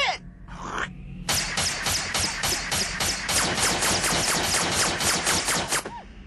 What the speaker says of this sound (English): My frozen saliva bullets have the destructive power of a magnum!